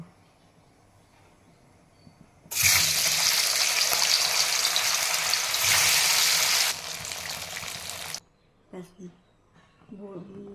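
Lentil dhoka pieces hit hot oil with a sudden loud sizzle that holds strong for several seconds before easing off, with quiet talk before it starts and brief voice sounds after it fades.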